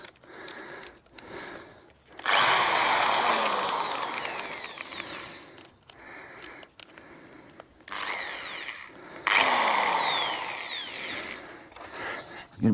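A power drill grinds into a wooden fence post in long, loud bursts with brief pauses between, close by, with a voice in the gaps.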